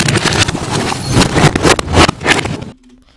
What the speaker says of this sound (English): how to reverse the audio of a video clip or just the audio